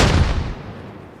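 A frag grenade explosion in the video game Arma Reforger, one loud, heavy boom with a deep low rumble that decays over about a second.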